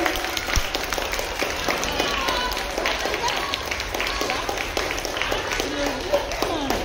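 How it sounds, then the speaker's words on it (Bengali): Audience applause after a modern comic stage drama adaptation of a Sukumar Ray play, steady dense clapping from a crowd lasting throughout, with some voices mixed in. "একটু জোরে হাততালি দিন"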